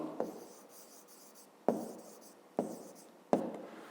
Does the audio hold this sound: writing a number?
yes